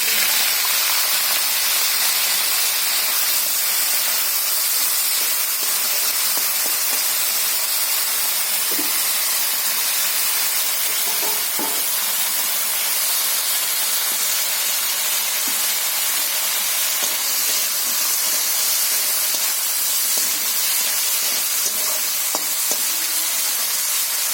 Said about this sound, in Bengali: কড়াইতে আমি তেল দিয়ে দিচ্ছি দিয়ে আমি আলুটা ভেজে নিচ্ছি